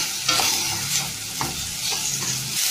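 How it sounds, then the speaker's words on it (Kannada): Capsicum being stir-fried in a pan, a steady bed of sizzling and frying with repeated scraping strokes of a spatula stirring the pieces, close and moderately loud with no voices. "ಸ್ವಲ್ಪ ಫ್ರೈ ಆಗಬೇಕು"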